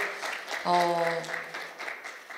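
Audience clapping greets actor Jang Hyuk at a KBS2 historical drama press event, continuous and moderately loud, while a short tonal musical sting rings out briefly near the start and fades under the applause.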